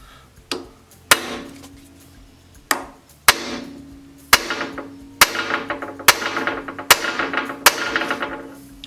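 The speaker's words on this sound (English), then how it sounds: "I'm going to go ahead and try to give it a couple good taps here." A hammer strikes a pin to drive it out of an American Tool Works lathe during a restoration, with about ten sharp metallic taps at irregular intervals, each leaving a brief ringing decay, growing steadier toward the end.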